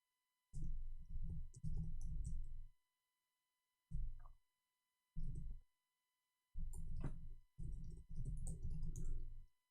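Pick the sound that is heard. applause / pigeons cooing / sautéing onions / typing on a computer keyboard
typing on a computer keyboard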